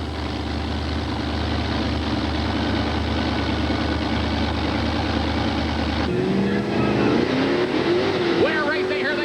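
Bigfoot and Star Monster monster trucks, Ford and Chevrolet, at a racing event: heavy engines roar in a loud low drone, then revving rises and whines as they race off, with an announcer talking over it.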